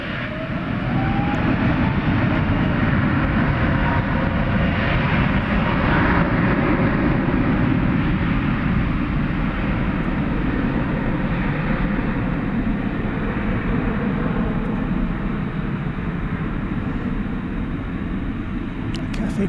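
A Cathay Pacific Airbus A350-1000 takes off from Dallas/Fort Worth Airport at night, a loud, steady broadband jet roar that holds for the whole stretch with no talk over it.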